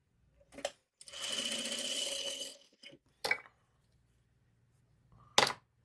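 Sewing machine stitching quilt patches together, one steady run of about one and a half seconds with short bursts before and after, fairly close and moderately loud, no talking.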